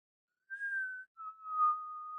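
A person whistles two sustained notes in imitation of the Spider-Man film whistle, the first higher and the second lower and longer, clear and alone in quiet.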